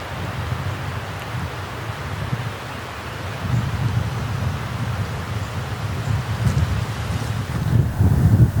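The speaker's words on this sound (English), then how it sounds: "I can hear the creek running behind me." A creek runs behind a beekeeping spot in the Appalachian hills, a steady low rushing wash of water that swells slightly louder near the end, with no one talking.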